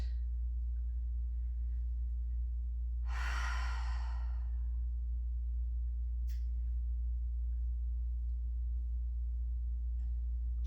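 A single deep exhale during a floor yoga pose, lasting about a second and a half, then a faint click, all over a steady low hum in an otherwise quiet room.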